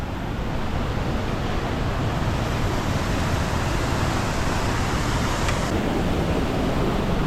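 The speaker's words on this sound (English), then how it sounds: "So first waterfall of the day, and this is slippy." Waterfall on the Annapurna Base Camp trek in Nepal at about 3,200 metres, a steady loud broadband roar of rushing water close by, unbroken throughout with no voices.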